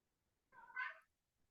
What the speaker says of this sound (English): The cat just meowed when you asked that.